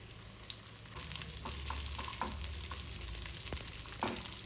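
Cashews and raisins fry in a pan of hot oil for a pepper chicken biryani, making a close, steady sizzle broken by soft scraping clicks from stirring.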